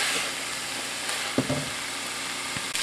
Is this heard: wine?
yes